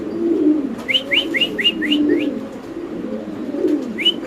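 Fantail pigeons coo in low, repeated throaty rolls, with a run of brighter chirps from nearby birds over them, steady and close with no talking.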